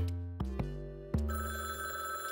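A telephone bell rings in a few sharp bursts, close and clear, with a lingering metallic ring afterward and no talking.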